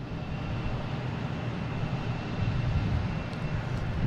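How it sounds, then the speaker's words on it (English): A JetBlue Airbus A321 jet arriving at Boston Logan, a broad, steady engine roar that swells slightly louder toward the end, heard from a distance with no voices. "Here's a JetBlue coming from San Francisco, an A321, flight"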